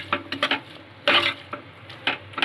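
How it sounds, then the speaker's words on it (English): A spoon stirring vegetables and sauce in a pan for pasta, scraping and clinking against the metal in short irregular strokes, close and fairly quiet. "Just mix it up."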